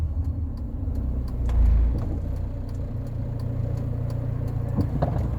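A Rover 45 Impression S3 with a CVT gearbox accelerates, its engine giving a steady mid-pitched hum and low rumble from inside the cabin, with a brief low thump partway through and no talking.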